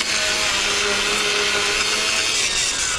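A power edger cuts a crisp lawn edge along a property line, a steady high-pitched mechanical whine and grinding buzz running loud and continuous throughout, with no talking.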